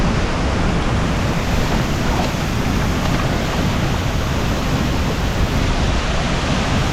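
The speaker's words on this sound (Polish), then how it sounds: "Ale to jest moc, jak ta woda bije o taplę." Cold water waves crash and churn against rocks, a loud continuous rushing wash heard close up with no pauses or voices.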